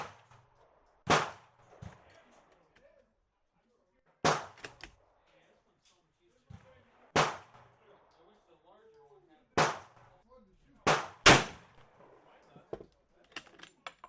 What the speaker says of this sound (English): I also had 3 extra rounds that I'll load manually into the magazine.